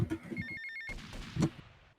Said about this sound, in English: Alright, so I'll wait for the phone call here.